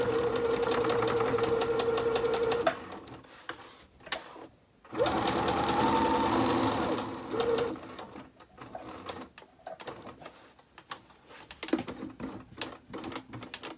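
A sewing machine stitches a fabric mask pouch in steady whirring bursts, pausing around three and five seconds and again near eight, then running in shorter, quieter stretches, with no talking.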